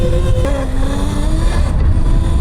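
Qronge X1 Spark mini electric motorbike riding past, a loud close motor whine with a pitch that drops sharply then holds steady over rumbling wind and road noise.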